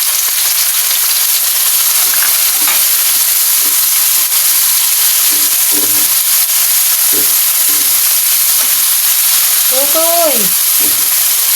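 Fish frying with onions and tomatoes in a pan, giving a loud continuous sizzle and hiss up close, with faint stirring scrapes and a brief squeak near the end.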